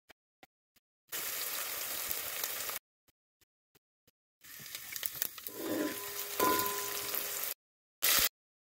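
Garlic, ginger and whole red chilies sizzle in hot oil for a tadka, heard in two bursts of steady hiss and crackle separated by quiet, with a brief final spurt of sizzling.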